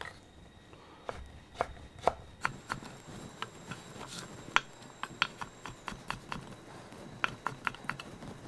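Knife cutting jicama into julienne strips on a board, a run of crisp rapid chopping taps in an irregular rhythm, close and clear with no talking.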